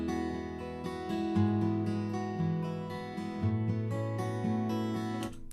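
Two sampled acoustic guitars, a Martin and a Taylor from a virtual instrument plugin, play together in a layered strummed chord progression. The sound is full, bright and evenly paced, with no talking.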